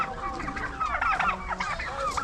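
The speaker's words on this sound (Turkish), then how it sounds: "yanlış bunlar kırgız hindisi" Turkeys at a Kyrgyz market, likely in Osh, give off a dense, continuous run of overlapping gobbling and clucking calls at close range, with no talk over them.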